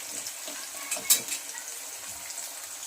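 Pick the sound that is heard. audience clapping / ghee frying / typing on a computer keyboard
ghee frying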